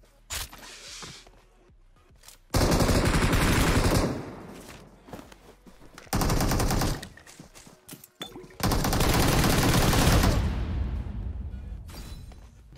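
Automatic gunfire in PUBG Mobile comes in three loud sustained bursts of a few seconds each, separated by quieter gaps with faint footsteps and movement.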